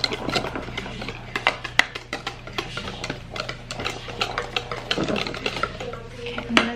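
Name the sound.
stirring a mixture in a bowl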